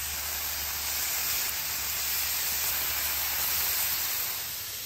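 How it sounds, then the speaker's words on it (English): Bacon frying on a griddle set over a Weber kettle grill gives a dense, steady sizzle and hiss, even and unbroken throughout, close and fairly loud. "Start cooking some bacon."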